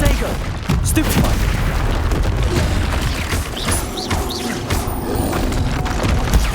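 Spell blasts and explosions in the Hogwarts Legacy video game erupt in a dense, loud rumble of booms and thuds, with bright magical whooshes mixed through the continuous combat noise.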